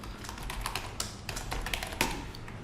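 Continuous typing on a computer keyboard, a steady patter of close key taps with a few sharper strikes over about three seconds, no talk.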